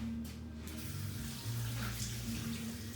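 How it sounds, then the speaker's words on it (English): Tap water runs steadily over hands at a kitchen sink while cooking chicken wings, a continuous close splashing flow with no talk. "Let me rinse off my hands."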